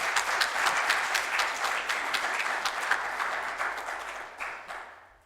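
A church congregation at a Sunday service applauding in a dense, lively round of clapping that holds steady, then thins and fades away at the end.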